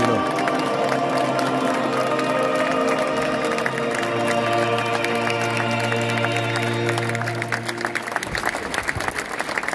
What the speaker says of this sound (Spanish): Y así aplaude la Plaza de San Pedro.